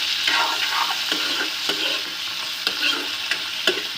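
Chopped tomatoes being stirred into frying egg and sandesh mixture in a pan, a constant sizzle with repeated scraping spoon strokes at an uneven rhythm, close and fairly loud, no talking.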